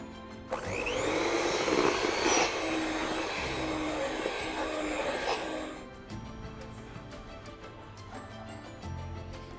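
An electric mixer beats royal icing, a loud, steady motor whir with a rough churning edge that runs for about five seconds, then cuts off, leaving quiet clinks and rustling.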